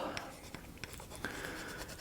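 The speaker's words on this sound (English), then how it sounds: "marking pencil, and mark up the bottom of the bridge" A white marking pencil scratches across the underside of the bridge of a 1964 Gibson LG-1 acoustic guitar under restoration, giving short, faint, irregular strokes against a soft background hiss.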